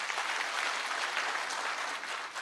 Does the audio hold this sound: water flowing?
no